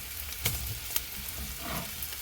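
Sausage links, about six, sizzling with peppers in a pan on medium heat, a steady close crackle of frying with a few sharper pops and stirring clatters, no talking.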